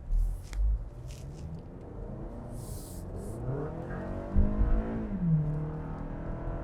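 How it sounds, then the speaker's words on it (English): A 2023 Toyota Camry LE AWD accelerating hard in sport mode onto a highway, heard from inside the cabin as a steady engine rumble with rising revs and a shift-like dip partway through. "I'm gonna use the sports mode because I gotta get on the highway super fast"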